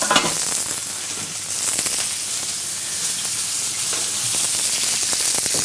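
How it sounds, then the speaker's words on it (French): Shallot fries in butter in a restaurant kitchen, a loud continuous sizzle and hiss with soft stirring scrapes underneath, close and unbroken throughout, with no talking. "On va faire revenir l'échalote dans un peu de beurre"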